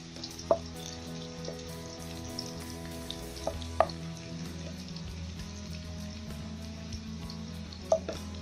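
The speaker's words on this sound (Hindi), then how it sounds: "प्याज जो है वो लाइट ब्राउन होना शुरू हो चुका हुआ है" Onions frying in a pan until light brown for a Hindi-style daal gosht, a low steady sizzle throughout with a few sharp pops and crackles near and alone, no talk.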